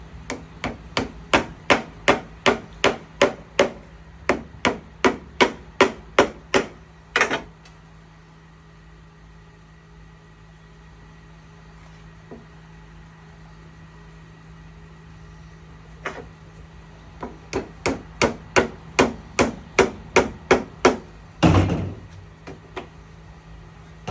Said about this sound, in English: Tap them in, make sure they get in all the way to the bottom on each side